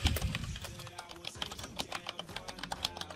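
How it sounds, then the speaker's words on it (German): Loud, rapid clatter of computer keyboard keys struck in quick irregular bursts during an online game of Unturned, with dense clicks throughout and no talk. "Deine Tastatur rastet wieder voll aus"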